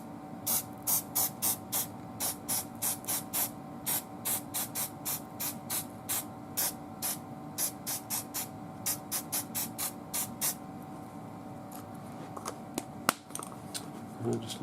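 Model Master lusterless flat lacquer overcoat sprayed from an aerosol can onto a model asphalt road, in a long run of short hissing bursts with steady rhythm at close range, then stopping near the end.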